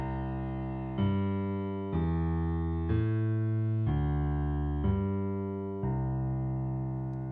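Piano left-hand bass notes alternate root and fifth in a steady, even pulse, each low tone ringing and decaying before the next, with no voices.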